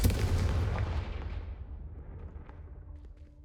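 Explosion from the Confringo blasting curse in Hogwarts Legacy, a single loud, deep blast that rolls off into a long fading rumble.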